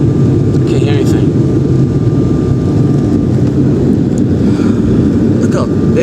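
A jet airliner's engines roar during takeoff from Maine bound for New York City, heard as a loud, steady, broadband rush from inside the cabin, with faint voices underneath.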